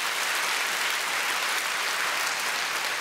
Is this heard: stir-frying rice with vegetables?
no